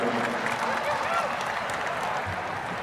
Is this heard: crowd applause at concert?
yes